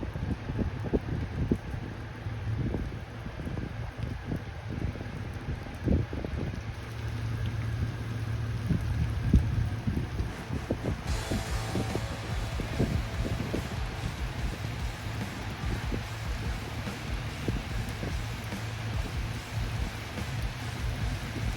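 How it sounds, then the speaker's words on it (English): Heavy rain pouring down in an Ohio park, a steady dense hiss of drops drumming on surfaces, with low rumbling undertones and occasional louder gusts, continuous and close throughout with no talking. "Oh, now it's pouring down rain."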